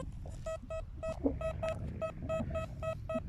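A metal detector sweeping a field gives a steady run of about a dozen short, evenly spaced beeps, fairly faint over a rustling outdoor background.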